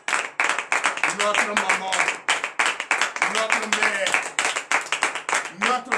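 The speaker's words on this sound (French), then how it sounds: "Je vous demande d'applaudir très fort" Rhythmic clapping from a morning prayer congregation in Benin, steady and loud throughout, with a voice speaking over the claps.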